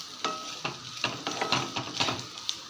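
Potatoes frying with spices in a pan are stirred with a spoon: repeated scraping strokes and light clanks over a constant close sizzle.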